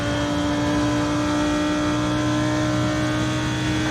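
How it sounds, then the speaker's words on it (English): A racing car engine drones steadily and close in a sim race at Road America in an IMSA multiclass field with LMP prototypes, holding a constant high whine without speech. "Faster car approaching."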